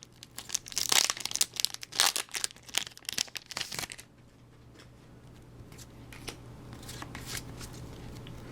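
Scissors snip and crinkle through the foil wrapper of Pokemon card booster packs, a dense flurry of close crisp cuts and rustles for four seconds, then quieter rustling and handling noise.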